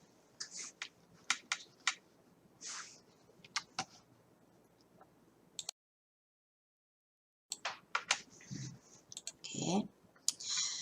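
Scattered sharp computer mouse clicks and taps come in irregular bursts close by, with a short silent gap midway.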